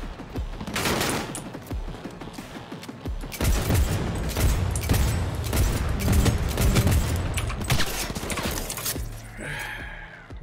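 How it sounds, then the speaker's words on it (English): Rapid bursts of gunfire sound during a firefight in the video game Cyberpunk 2077, loud and dense with overlapping crackling shots that come in clustered volleys and then trail off. "Hey, he's firing!"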